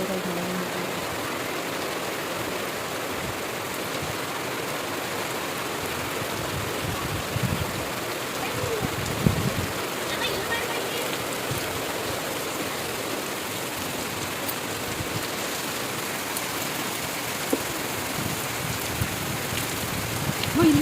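Steady afternoon rain near Kunigal patters down in a soft, continuous hiss that stays even throughout, with a few slightly louder drops here and there.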